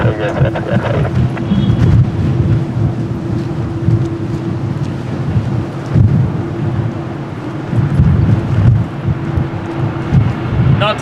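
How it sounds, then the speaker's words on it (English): Strong wind roars continuously at Lisbon Airport, a loud, steady broadband rush with buffeting gusts, mixed with a low airport hum and faint radio-like chatter. "Not easy, so windy."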